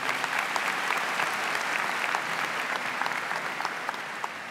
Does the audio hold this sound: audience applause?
yes